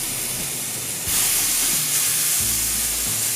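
Chicken thighs sear on a grill, a steady close sizzle and hiss that grows louder as the meat goes down, with faint low rumbling underneath.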